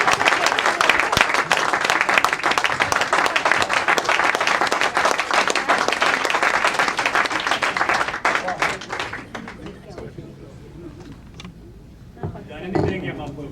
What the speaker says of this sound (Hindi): आप सबकी भरपूर तालियों में तशरीफ लाएंगे